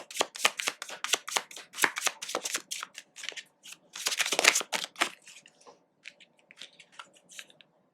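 Tarot cards being shuffled by hand, a rapid run of crisp riffling bursts that thin out into scattered soft card taps near the end, close up with no speech.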